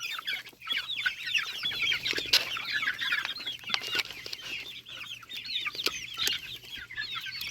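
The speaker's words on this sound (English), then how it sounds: "These are future laying hens." A flock of young future laying hens clucks and chatters continuously, a busy overlapping chorus with occasional sharper peeps, steady and moderately close.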